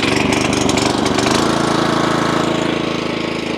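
Small gasoline engine on a Graco LineLazer 3400 line striper being pull-started, a loud close rattling burst settling into a steady rapid idle chug.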